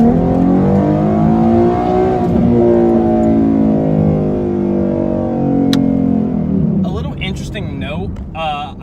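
Ford Mustang with a 3.7 V6 and Reaper exhaust revs loudly in first gear, a steady harmonic drone that rises and falls before tapering off; near, continuous, with faint high chirps toward the end.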